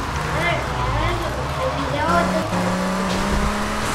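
Car engine driving in the video game GTA Vice City, a continuous droning motor that shifts pitch as it accelerates, heard beneath talking throughout.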